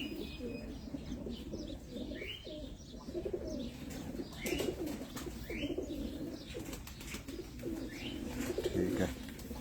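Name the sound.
pigeons cooing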